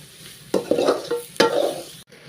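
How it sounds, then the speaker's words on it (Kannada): Vegetables for coconut palya sizzle and fry in a pan while being stirred, with two scraping strokes over a steady close sizzle, ending in a sharp clink. "ನೋಡಿ ಎಷ್ಟು ಚೆನ್ನಾಗಿ ಫ್ರೈ ಆಗ್ತೈತೆ, ಎಲ್ಲ ಫ್ರೈ ಆಗೈತೆ"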